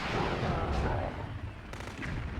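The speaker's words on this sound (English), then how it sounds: "you can punch missiles back at your aggressor" Missiles and tank fire in the PS2 game Hulk boom in a low, rumbling barrage, dull heavy blasts at moderate level that continue through the clip.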